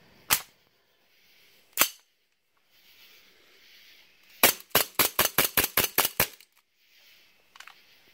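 Gas-powered RWA 1911 airsoft pistol firing BBs: two separate sharp cracks, then a rapid string of about nine snappy shots in quick rhythm, with a faint later pop, close and loud.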